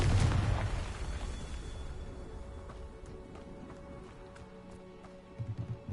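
A Confringo spell explosion in a video game: one loud booming blast at the start that decays into a long rumbling tail, with a few soft thuds near the end.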